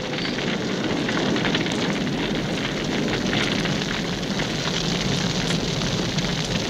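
Roaring fire burning steadily, a dense crackling rumble that stays loud and continuous throughout with no voices.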